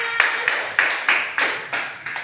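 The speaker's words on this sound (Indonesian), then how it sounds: "Ya, beri tepuk tangan" A class in an Indonesian school claps for a group after it presents, with about eight distinct rhythmic bursts of many hands at a steady beat, close and alone.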